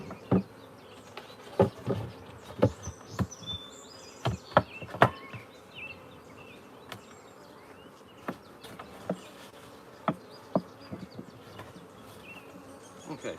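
Honeybees buzz around an open hive during a beeyard inspection, their close, fluctuating drone punctuated by loud passes as individual bees fly near, with no talking.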